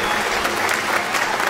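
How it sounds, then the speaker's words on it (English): Audience applause at a spring band and orchestra concert for a National Orchestra Award winner, dense steady clapping filling the short stretch with no pauses. "I would like to give her a round of applause."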